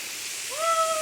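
Palakuzhy waterfall in Palakkad: water falling as a steady, soft broadband rush, with a clear rising whistle-like tone sliding in over the second half.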